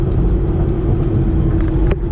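A 2005 Ford Mustang GT V8 engine idles with a steady deep rumble and a faint breathy intake hiss, close and continuous.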